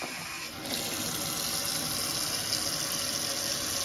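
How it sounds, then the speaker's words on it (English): Water pours steadily over four calcite specimens in a small plastic bowl, a continuous close, full rushing flow with no talking. "Cover them with water,"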